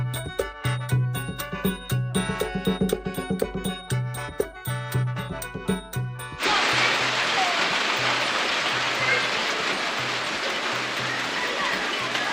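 Steady rain falls in damp weather, a dense, even hiss that fills the second half after a stretch of rhythmic tinkling sounds, moderately loud and unbroken.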